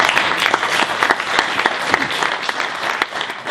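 Audience applause at a conference keynote in Johannesburg, sustained, irregular clapping from a room of people, loud and close, with sharp individual claps standing out throughout.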